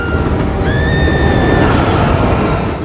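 A train rolls past close by, loud continuous rumbling and rattling of wheels on track with a high metallic squeal rising briefly in the middle.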